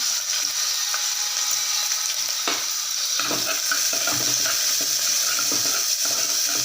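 Cumin, dried chili, asafoetida, curry leaves and chopped onion frying in oil in a pan for rice sambar, a steady close sizzle throughout with stirring scrapes and clatters over it.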